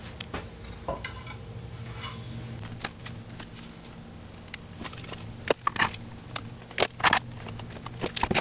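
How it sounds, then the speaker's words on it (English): Wood glue being spread for a birdseye maple veneer on a magnetic knife holder: close, soft sticky smearing and shuffling with a few sharp taps and clicks toward the end, without talk. "Let's spread some glue"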